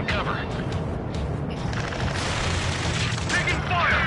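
Gunfire in a video game battle in Angels to Aces, a steady dense crackle of rapid shots and booms under urgent shouted voices, sustained and fairly close.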